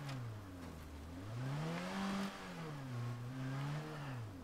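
A car engine in the video game State of Decay 2 revs up and down in repeated waves, pitch rising and falling as it accelerates, loud and close with no talk.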